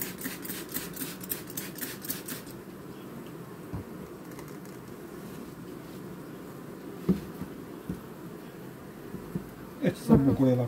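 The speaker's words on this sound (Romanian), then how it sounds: "Albine destulă." Honey bees buzz steadily around brood frames lifted from a hive, a close, continuous hum with rhythmic clicks early on and occasional handling knocks near the end, while a person speaks intermittently.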